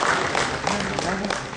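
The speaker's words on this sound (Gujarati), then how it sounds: "જરા તાળીઓથી સ્વાગત કરીશું." An audience at a poetry recital applauds to welcome a poet to the stage, a brief, dense burst of many hands clapping at steady strength throughout.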